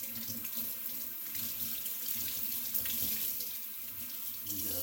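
A kitchen sink tap runs steadily while dishes or a sponge are rinsed under the stream, a continuous close splashing wash with no talking.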